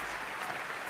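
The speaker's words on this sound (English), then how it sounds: "Let's give him a big round of applause." A watch party audience for a GT World Series Manufacturers Cup race claps in a brief, dense, steady burst of applause.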